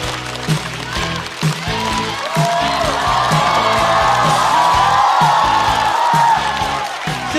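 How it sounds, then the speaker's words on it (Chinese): A studio audience bursts into applause and cheering to welcome stand-up comedian He Guangzhi onto the stage. The clapping and whoops hold steady and fairly loud throughout, over a thumping, rhythmic music beat. "掌声有请何广智"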